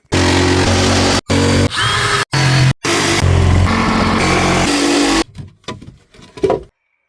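A jigsaw cuts a hole in the metal body of a van in loud, close bursts broken by brief stops, then gives way to quieter scraping and handling noises.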